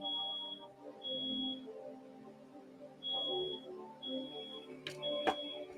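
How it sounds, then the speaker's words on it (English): An alarm goes off in a repeating pattern of high, steady electronic beeps with short gaps between them, moderately loud over a low background murmur. "the alarm going off again"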